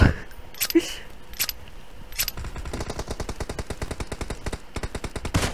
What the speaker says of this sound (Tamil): ஐயோ சுடுறானே சுடுறானே